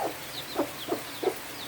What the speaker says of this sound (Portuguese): eu tava colocando aqui a galinha pra dentro de casa com os pintinhos